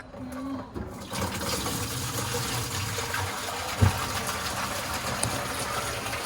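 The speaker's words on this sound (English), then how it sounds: "So I've got the water pump turned on." Water rushes and gushes steadily from a running water pump alongside a low mechanical hum, with a brief thump midway; continuous and fairly close, no talking.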